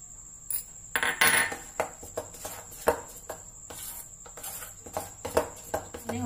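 Almonds dropped into banana muffin batter, a series of small light clicks and taps in an uneven patter, close and fairly quiet over a faint steady hum.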